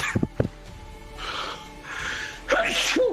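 During a tabletop Dungeons & Dragons game session, a person lets out a sharp, close sneeze followed by a second quick burst, with snorting breaths and faint murmuring afterward.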